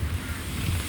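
Strong wind roars and buffets the microphone in a continuous, dense rush with low rumbling gusts, during heavy rain.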